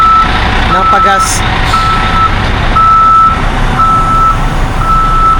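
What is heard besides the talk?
tour bus beeping and idling beside a gas station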